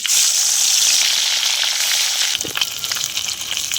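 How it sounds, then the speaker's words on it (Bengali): Khaira hilsa fish fry in hot oil in a pan with a loud, close, continuous sizzle that eases slightly and turns more crackly toward the end. "মাছগুলো ভেজে নেব।"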